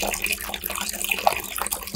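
Water drips and trickles as fungicide-soaked material for an Adenium soil mix is squeezed out by hand, a soft close-up splashing with irregular drops.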